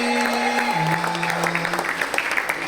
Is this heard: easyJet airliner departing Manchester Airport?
no